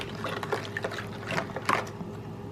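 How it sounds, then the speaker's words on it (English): A liquid marinade for carrot hot dogs is stirred quickly in a bowl, with soft continuous sloshing and light splashing of liquid close by and no talk. "So we're just going to give that a quick mix."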